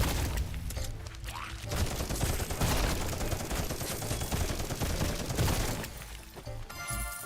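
A sustained barrage of missiles fired in a video game, dense crackling blasts and impacts that roll on continuously for several seconds at loud, steady intensity, tapering briefly near the end.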